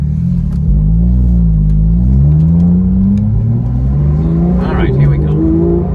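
A supercar track car accelerates hard, its engine note rising steadily through the gears, loud and close from inside the cabin. Someone speaks briefly over the engine.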